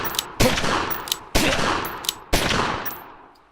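Gunfire from the gangster game Omerta: City of Gangsters: three loud, sharp shot bursts about a second apart, each trailing off in a long decaying echo, with no talking.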